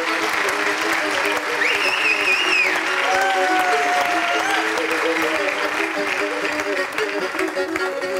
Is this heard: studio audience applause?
yes